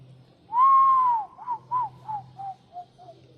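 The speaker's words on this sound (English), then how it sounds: "Birds right there in the very top one." Birds calling from the top of a tall rice mill structure: one long clear whistled note followed by a series of six shorter, fading chirps, moderately close with faint background hum.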